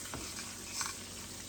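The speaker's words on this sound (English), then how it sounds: "now we want to stir the mixture" Batter mixture for fried chicken stirred in a pan, a faint continuous sizzle with a couple of soft utensil scrapes, quiet and close.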